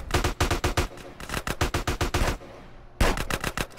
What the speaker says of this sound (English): He's firing the RPG.